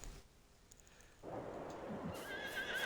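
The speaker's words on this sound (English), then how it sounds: "we're going to go ahead and get these horses knocked out" A horse whinnies in Farming Simulator 22, a clear neigh rising over soft hooflike clip-clops and game ambience, with the call growing louder toward the end.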